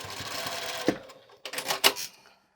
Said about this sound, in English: Sew it all the way across